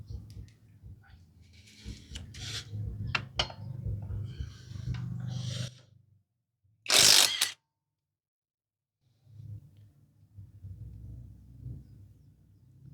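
A Tecepo 21V cordless impact wrench loosening a bolt gives one short, loud burst of rapid hammering, standing alone between stretches of quieter background sound.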